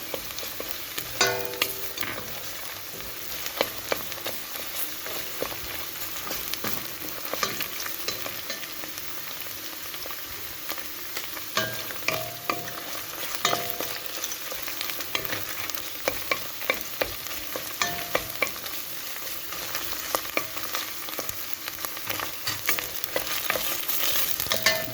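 Tomato paste fries in a pan with a constant sizzle, punctuated by frequent scraping and knocking of a spoon stirring it, heard up close.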